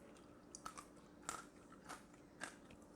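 Crunchy charred cheese on top of meatless baked ziti being bitten and chewed up close, a few crisp crackling bites spread over a few seconds, faint and with no talking.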